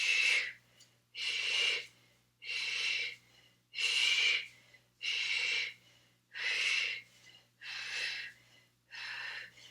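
Forceful exhaled breaths during a core workout, eight sharp puffs in a steady rhythm about one per second, close and clear with quiet gaps between.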